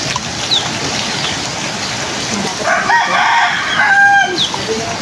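Chickens cluck and a rooster crows loudly at a rural Bicol homestead, the crow rising clearly midway over a steady background hiss of flowing water, with no talking.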